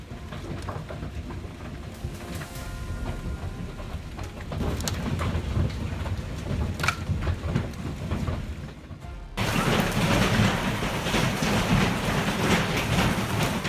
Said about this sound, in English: residents rushed to shelter as large hail and strong winds arrived